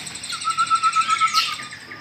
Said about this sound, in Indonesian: Dan juga kicauannya cukup keras sekali.